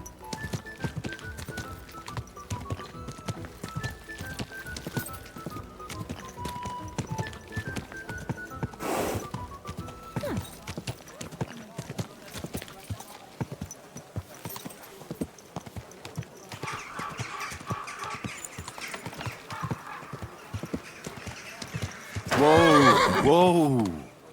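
A horse in the medieval game Kingdom Come: Deliverance II clip-clops steadily at a walk throughout, with snorts and a loud whinny near the end, plus brief voices in the background.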